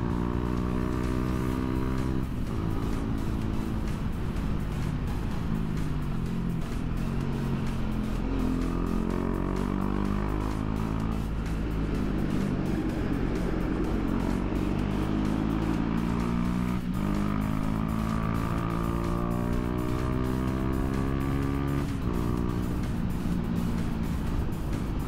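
A KTM Duke 250 motorcycle is ridden on a road with rising and falling engine revs and shifting tones. The single-cylinder drone runs steady and loud throughout, with no talking.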